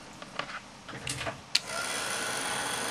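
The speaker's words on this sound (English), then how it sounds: "Now that the plastic is soft enough, having been heated with a heat gun" Heat gun blowing onto Friendly Plastic resting on a silicone mat: a few light handling taps and clicks, then a steady close-up whooshing blower hiss that starts abruptly and runs continuously to the end.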